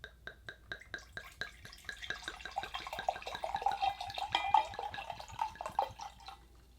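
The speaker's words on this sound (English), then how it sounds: "I'm gonna pour myself up a glass of rosé" Rosé wine glugging from a bottle into a glass, a rapid rhythmic series of close liquid gulps and splashes that builds and then tapers off.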